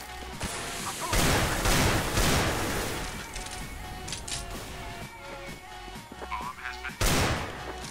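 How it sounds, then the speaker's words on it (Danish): A grenade bursts in a CS:GO match, a loud boom with crashing debris, followed by further gunfire-like blasts and game noise. "det var bare en random nade"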